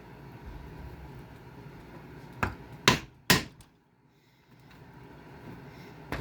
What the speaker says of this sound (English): Takes a pretty good whack with this thick of leather.